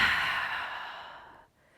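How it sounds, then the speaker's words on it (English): A long exhale during a pre-run workout exercise, a close, breathy rush of air that is loudest at the start and slowly fades over about a second and a half before cutting off, with no talk over it. "exhale."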